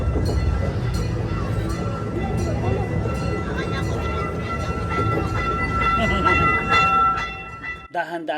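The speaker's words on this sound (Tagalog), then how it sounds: "Dahan-dahan nang umihina ang takbo ng aming train at nararamdaman namin ang pagtatapos ng ride." Amusement park train ride at a seaside boardwalk rolling along and slowing down, a steady loud rumble with faint rail clatter under excited voices, ending in a sudden drop to quiet near the end.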